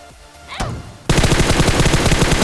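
AWM sniper rifle fire in a mobile video game: one sharp shot rings out, then a loud, dense stretch of rapid gunfire continues to the end.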